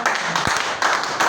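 A church congregation claps in acclaim of the Lord, giving a dense burst of applause that dips briefly and then surges again, loud and close.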